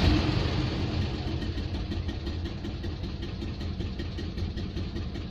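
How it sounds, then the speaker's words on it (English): An Invacar engine idles slowly and steadily, a low, even rumble with a regular pulse that continues without pause. "even with the engine ticking over that slowly, the oil pressure light isn't coming on."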